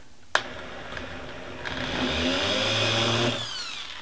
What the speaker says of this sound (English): So I'm going to just start a little hole here with my drill.